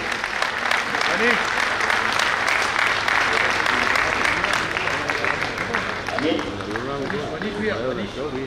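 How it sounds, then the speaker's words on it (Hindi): Loud, dense applause from an audience at a Lions Club awards event, sustained throughout with people talking underneath and cheering voices rising near the end. "एक बार बहुत जोरदार तालियां तो इन साथियों के लिए बनती है"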